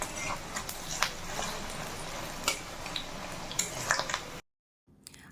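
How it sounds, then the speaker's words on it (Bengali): Rohu fish roe fritters fry steadily in mustard oil with a dense, even sizzle and occasional stirring clicks, then the sound cuts out abruptly near the end. "আমি এখানে সরষের তেলে বড়াগুলো ভেজে নিচ্ছি"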